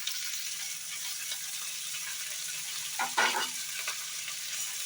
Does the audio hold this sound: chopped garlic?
yes